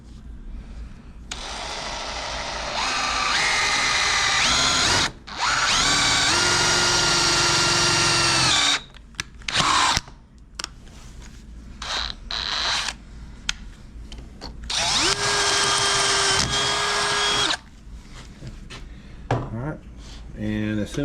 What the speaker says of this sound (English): we've got the piece of metal bent and we're putting 3 holes in it